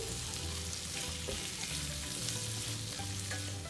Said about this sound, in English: And just fry it. You can see it's just turning brown slowly already.